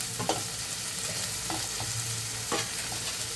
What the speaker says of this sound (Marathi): वाटण असं ना मस्त आपण परतून घेतले